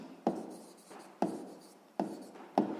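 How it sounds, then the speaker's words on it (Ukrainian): Pen strokes on paper as a math answer is written down, four short scratchy bursts at a steady rhythm, close and fairly quiet with no talk. "Записуємо відповідь."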